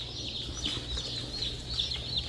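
Cornish game hen chicks in a brooder give faint, repeated high peeping calls in a quick irregular patter over a low background hum.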